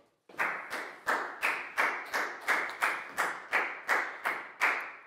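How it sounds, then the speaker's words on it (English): Steady, evenly spaced handclaps in a classroom for a young student, about a dozen sharp claps in a regular rhythm, close and fairly quiet, with no talking over them. "a big round of applause for Pangpon"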